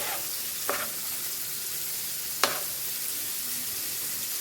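Shrimp frying in a hot pan, a steady soft sizzle with two brief sharp crackles or stirring clinks, with no talking.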